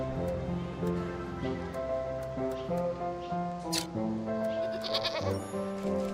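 Sheep bleats in the Wytchwood video game, heard over steady game music with tonal melody, a few short bleats rising near the middle and end, fairly close and clear.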